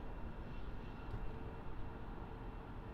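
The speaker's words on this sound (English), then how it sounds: "You can't mistake the sound of a GE90 spooling up." A GE90 engine on an Air New Zealand jet spools up at an airport, a faint, distant broadband roar holding steady without clear rise.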